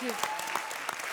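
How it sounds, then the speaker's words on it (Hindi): A studio audience at a Hindi comedy show bursts into brief, dense applause, with a voice speaking over the clapping. "तालियां."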